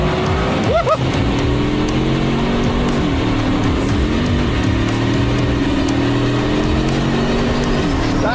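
Hypercar launch-control start at full power with rear wheel spin, a loud sustained engine roar with rising and shifting pitch and an early screech, close and continuous throughout.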